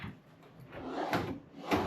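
A drawer in a Four Points by Sheraton hotel room in Istanbul slides open and shut, giving two distinct close wooden slides and knocks with nobody talking.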